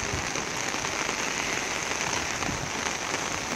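Rain falls steadily on a Florence street on a wet Sunday morning, an even, close hiss of drops on hard surfaces, with no voices.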